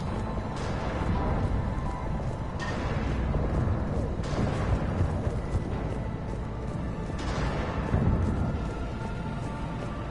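Heavy cannons boom repeatedly in the Mass Effect 3 game, deep broad blasts recurring every couple of seconds over a dense rumbling battle bed, with voices faintly underneath.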